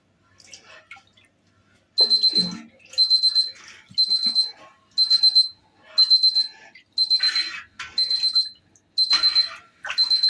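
An electronic kitchen timer beeps insistently in repeated bursts of rapid high pips, close and loud, after a few quiet kitchen clinks while making Gouda cheese.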